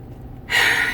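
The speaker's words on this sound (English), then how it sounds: "So back to the bigger breathing, which I'll do right now" A single deep, rushing inhalation during a breathing exercise begins abruptly after a brief quiet pause and fills the second half, loud and close to the microphone.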